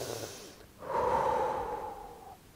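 A slow, deep breath drawn in as part of a cardiac coherence breathing exercise: one long, steady airy rush lasting about a second and a half, close to the microphone, with no talk.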